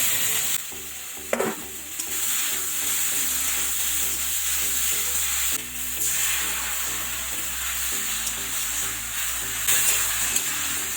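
Ginger, cumin and chili paste with tomato frying in a pan for a river bacha fish curry: a loud, continuous sizzle and hiss with stirring scrapes and a few sharp spatters, close up and without speech.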